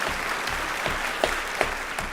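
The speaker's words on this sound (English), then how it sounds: "give yourselves a round of applause right there" Audience applause arrives as a steady, fairly loud wash of clapping from a crowd, with a few distinct sharper claps popping out over the continuous noise.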